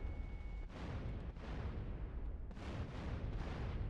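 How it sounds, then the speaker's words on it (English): Dense, continuous rumbling blasts and booms from GTA San Andreas, loud and sustained with a few brief dips, like heavy explosions in a game. "That's a lot of explosions."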